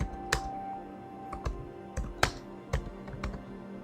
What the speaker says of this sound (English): Really fun keyboard to use.